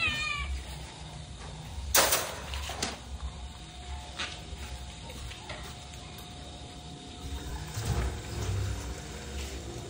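Adopted stray cats at their evening meal, one meowing a few times close by over a quiet background with faint mechanical clicking and soft rustling.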